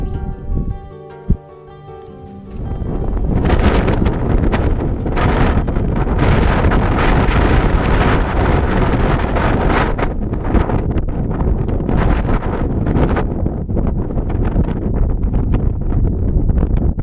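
Strong evening wind on a hill fort trek in Maharashtra roars and buffets the microphone almost continuously, loud and close, after a brief quieter opening.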